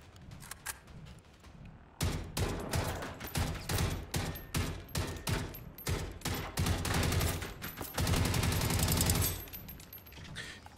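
Dense bursts of automatic gunfire in the Generation Zero video game, rapid loud volleys stacking close together for several seconds and briefly easing before another sustained barrage, with no talking.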